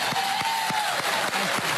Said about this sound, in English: I love that you just applauded that